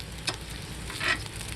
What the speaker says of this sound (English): I'm just going to flip all these over